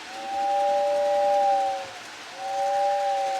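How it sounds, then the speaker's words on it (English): A Lionel Polar Express model train sounds its whistle in two clear, sustained toots, the first longer, with a short gap between them and no talking over them. "He was able to even get the whistle to work."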